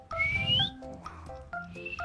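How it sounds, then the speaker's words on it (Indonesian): A single person whistles once, a short rising tone up close, followed by a few shorter pitched sounds, with no clear talking. "boleh siul sekali aja"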